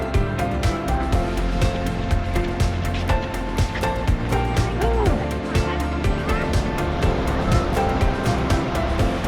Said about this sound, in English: when the waves rush in, the sound of the water and the air being forced out of the cave creates a sound like thunder